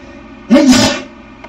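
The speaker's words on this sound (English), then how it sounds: "I don't know why I'm sneezing so much today." A single loud, close human sneeze with a sharp voiced burst that trails off quickly, alone in a quiet room.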